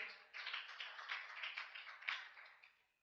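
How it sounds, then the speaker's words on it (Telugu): A church congregation clapping their hands together at a Saturday fasting prayer service, a steady rhythmic patter of many hands that is fairly faint and fades out toward the end. "అందరి దగ్గరగా చప్పట్లు కొట్టండి ఒకసారి."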